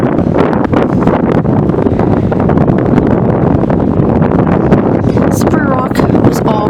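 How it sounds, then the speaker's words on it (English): Strong wind on the Slippery Rock campus buffets the microphone with loud, continuous rumbling gusts, and faint chirps come through near the end. "It's always windy on campus."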